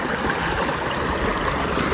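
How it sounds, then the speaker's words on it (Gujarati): Rushing water from heavy rain pours through a channel in a steady, dense wash, loud and close, with no talking. "આ પાણી જો કેટલું જાય છે, પાણી જો કેટલું પાણી જાય છે"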